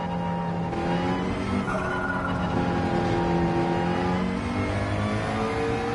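McLaren race car in Gran Turismo 7, its engine revving and rising in pitch through a corner. Steady, close and loud, with no voices.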